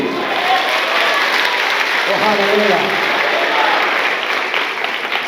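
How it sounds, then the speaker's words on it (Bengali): Clapping from a church congregation during a Bengali Christian sermon, steady and loud throughout, mixed with a cheering crowd and a voice calling out over it. "জোরে প্রভুর জন্য করতালি দি।"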